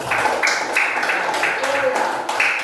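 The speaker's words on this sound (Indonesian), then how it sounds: "Oke, tepuk tangan buat Alfatur." Classroom of pupils applauding a classmate, a brief patter of group claps under a teacher's voice and children's chatter.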